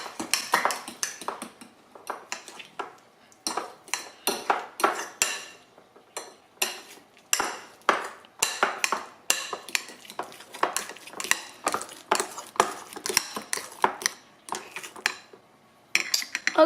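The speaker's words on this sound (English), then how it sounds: "Now we start mixing." A utensil repeatedly clinks and scrapes against a bowl while kid-friendly guacamole is stirred with salt and pepper, sharp close taps in quick irregular bursts with brief pauses and no talking.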